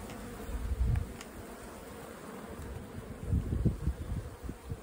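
Honey bees buzz inside an opened beehive, a soft, close, droning hum that swells in brief louder bursts over a steady background.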